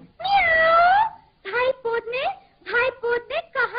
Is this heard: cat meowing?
yes